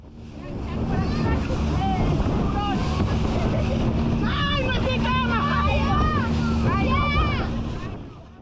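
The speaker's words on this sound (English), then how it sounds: "So here we are on a boat on our way to Cayo Arena." Steady engine drone and rushing water and wind from a moving boat on open water heading to Cayo Arena, Montecristi, Dominican Republic, with people's voices chattering and calling out over the noise.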